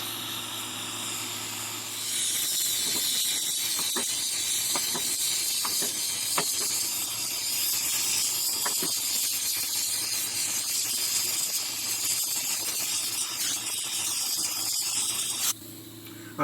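A heat source hisses steadily while heating a homemade larimar stone for jewelry. The close, continuous hiss kicks in after two seconds with scattered crackles and cuts off just before the end.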